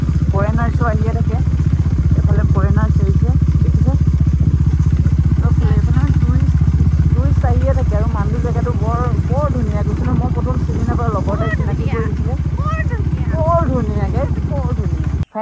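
A loud, steady motorcycle engine drone runs throughout a ride, with a voice talking continuously over it until the sound cuts off abruptly.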